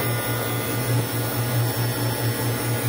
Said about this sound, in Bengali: এখানে আইস মেশিন, এটা গরমটি দেখেন কিভাবে আইস করে রাখতেছে।